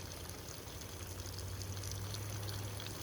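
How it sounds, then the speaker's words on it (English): Water trickling and dripping steadily off Carl, an animal on a farm, as a continuous soft, even splash with no voices. "Watch his water just drips off of Carl right now."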